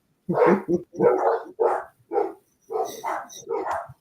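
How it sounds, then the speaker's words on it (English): Several barks from dogs reacting to a doorbell come in quick bursts with short pauses between them, fairly close and loud, with no talking. "That's why the dogs are going crazy."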